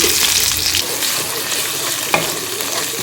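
Chillies hit hot ghee and oil in a pan for Andhra chilli chicken, a loud close sizzle with stirring and one sharp clack partway through.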